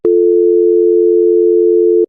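A steady, unbroken electronic telephone tone sounds loud and close for about two seconds, a single pure pitch that cuts off abruptly at the end, with no voices.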